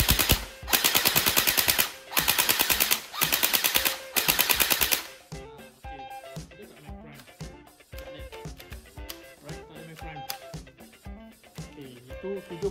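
A Thompson gel blaster fires full auto in four rapid bursts, each a buzzing rattle of shots close to the mic, followed by mechanical handling and clicking of the toy gun.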